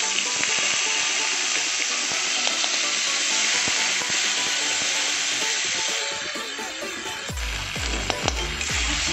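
Steady loud sizzle of frying in a pan while cooking shahi matar paneer with cauliflower, continuous crackling spatter filling the whole clip, with a brief clatter near the end and no talking.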